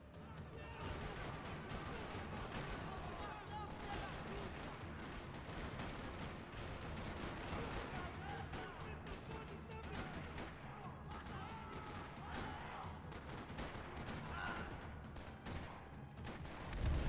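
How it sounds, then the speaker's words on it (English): Gunfire rattles across a parking lot in a video game roleplay, a dense continuous barrage of shots and noise running the whole stretch, with voices mixed in underneath. "Another parking lot rattling with gunfire."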